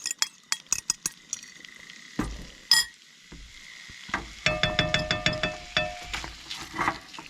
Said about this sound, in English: Oil heated up. Medium to high heat. I'm just gonna saute.